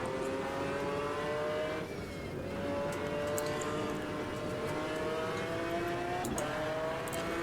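Race car engine in the Automobilista 2 sim racing game, a steady loud engine drone rising and shifting in pitch through gear changes, continuous and close with no talk.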